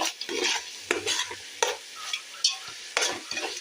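Tomatoes sauté in a pan for chicken biryani, a soft sizzle broken by several scraping stirs of a spoon against the pan, close and fairly quiet.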